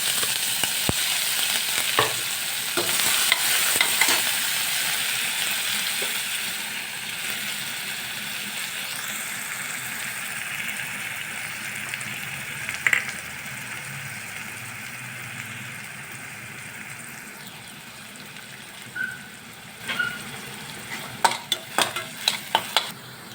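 Chopped onions fry in hot oil with a cardamom pod and two cloves, a steady broad sizzle with scraping stirs and a few sharp clicks of a spatula near the end; no talking.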